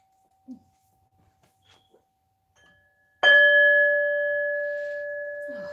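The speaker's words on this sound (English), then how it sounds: "I want to hit another bell." A single bell is struck once after a few quiet seconds, ringing out with a clear, bright tone that sustains and slowly fades, close and loud.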